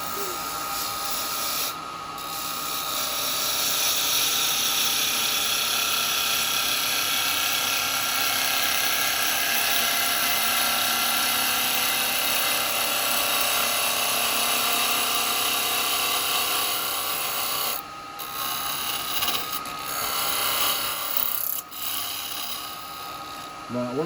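Wooden jewellery box of mixed woods spinning on a wood lathe, a steady whirring hum with scraping tool contact running nearly continuously, briefly dipping a few times near the end, with occasional talk over it.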